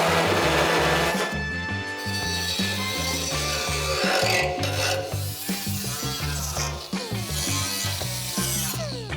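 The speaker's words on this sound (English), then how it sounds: "I'm gonna use a body saw." A body saw cuts sheet metal on a 1972 Chevy truck body, giving a steady fast rasping buzz with brief stops and restarts, close and loud throughout.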